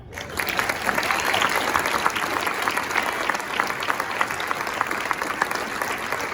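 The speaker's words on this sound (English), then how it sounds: "please join me in a very large round of applause" A large round of applause at a girls basketball club end-of-season banquet, with many people clapping steadily at a moderate distance, crisp individual claps standing out from the continuous crowd sound.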